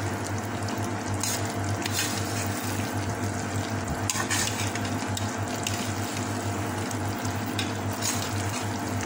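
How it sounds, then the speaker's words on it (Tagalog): Carioca rice balls being stirred in a pan until coated, giving a steady sticky scraping and sloshing with scattered small clicks over a constant background hum. "Halo-halo lang hanggang sa ma-coat lahat."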